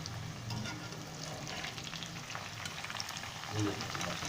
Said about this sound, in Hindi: भिंडी हमने फ्राई कर ली है और बहुत प्यारा इसका गोल्डन कलर निकला है